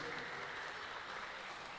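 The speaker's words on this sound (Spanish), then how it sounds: "Fuertes esos aplausos." A crowd at a folk song festival in Ciudad del Este applauds a solo female singer, a dense, even roar of clapping that holds steady and fairly distant throughout.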